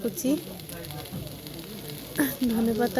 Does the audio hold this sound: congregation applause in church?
no